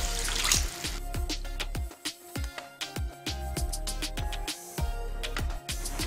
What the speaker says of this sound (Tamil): தேவையான அளவுக்கு தண்ணி விட்டுக்கோங்க.